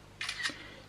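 Simulated camera shutter of an iPhone XS Max taking a photo: a single crisp double click, quiet and close, over near silence.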